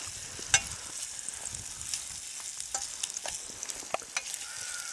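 Pork fat sizzles and fries in a pan set out on the ice during a winter fishing trip, a steady hiss broken by small pops and stirring scrapes, close and continuous with no talking.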